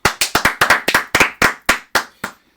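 One person claps about a dozen times in a quick, slightly uneven rhythm, crisp and close, slowing and thinning out toward the end.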